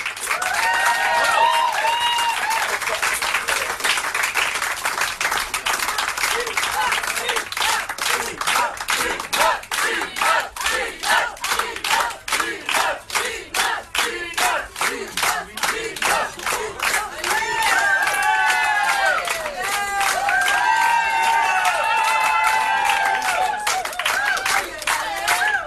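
Concert audience at La Dame de Canton clapping and cheering, steady rhythmic applause with whoops and shouts rising over it, loud and continuous throughout.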